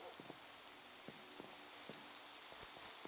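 Soft patter of rain in Minecraft, a quiet steady hiss dotted with scattered light droplet taps, faint and continuous with no talking.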